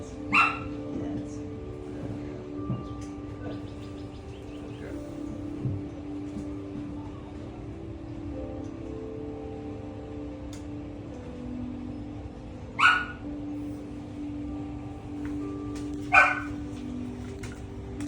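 A puppy at a dog board-and-train facility lets out a few short, scattered barks and yips, with long quiet gaps between them over a low background hum.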